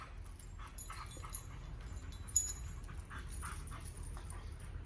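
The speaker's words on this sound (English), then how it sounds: "You're gonna hear Ava because she's all excited" A dog whimpers and pants excitedly, with soft yips and restless breathing close by, over a steady low background rumble.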